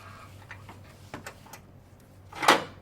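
A 24mm socket turned on a bolt of a 5.3 engine during cleaning, giving a few faint, spaced metallic clicks and ticks, then one louder scraping clunk near the end.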